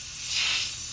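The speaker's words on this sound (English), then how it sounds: "So I like to use compressed air. Get rid of all the dirt and the grime in there." Compressed air hisses in a single steady blast about a second long as it clears dirt and grime from a connector on a Freightliner truck with a DD16 engine, swelling slightly in the middle.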